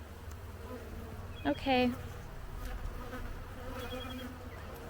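Honey bees fan loudly inside an opened hive during an inspection, a dense steady buzzing drone filling the clip, with a brief spoken word over it.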